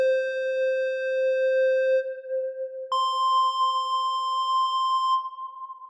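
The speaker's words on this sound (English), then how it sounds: "If I mute the first oscillator and unmute the second, I can repeat the process." Pure sine tone from the second oscillator of a Mynth synthesizer, first a steady lower tone, then a sudden jump to a higher steady tone in a higher octave, clean and sustained.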